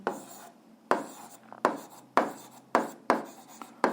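Writing strokes on a surface while noting the domain of a function in an eighth-grade algebra lesson: about six separate scratchy strokes, each a sharp onset that fades, close and moderately loud, with no talk.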